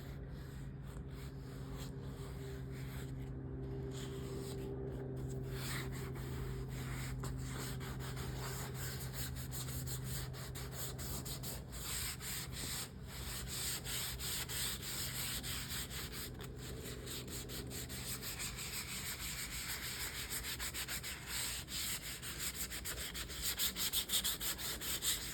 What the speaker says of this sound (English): as you can see, it's just a light sanding. We're just breaking the finish.